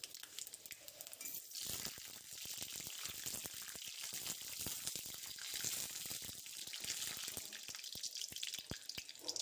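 Panch phoron spices hitting hot oil in a home kitchen while cooking dal, a crisp continuous sizzle with scattered sharp pops and crackles, close and fairly loud throughout.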